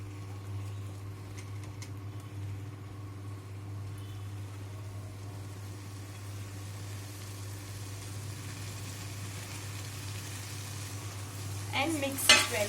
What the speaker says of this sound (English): Now fry it, mix it well.